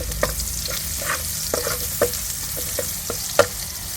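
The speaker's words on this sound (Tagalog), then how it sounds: "tayo po ay magigisa na. Lagay na po natin yung luya. Lalagay na rin po yung bawang." Ginger and garlic sauté in a pan for sweet and sour tilapia, a steady close sizzle punctuated by regular spatula scrapes and taps roughly every half second.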